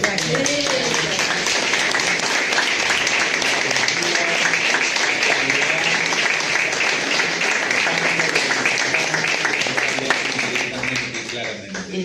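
Sustained audience applause at a public talk on labour reform and public health, dense and fairly loud, holding steady for about twelve seconds before easing slightly at the end, with some voices mixed into the clapping.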